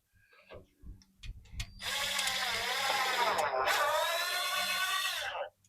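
A screw is driven into an aluminum stud on a solar shed, a few soft clicks and handling knocks followed by a sustained whirring power-driver run that rises in pitch and cuts off abruptly.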